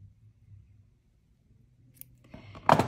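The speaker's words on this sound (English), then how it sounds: "Then I'm gonna snip off the excess wire." Cutters snip off excess jewelry wire while earrings are being made: faint handling noises, then one sharp, close snip near the end.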